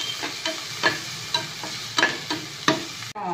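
Onions sautéed with salt over a full flame in a stone pan, a steady sizzle broken by repeated scrapes of stirring, close and moderately loud with no talking.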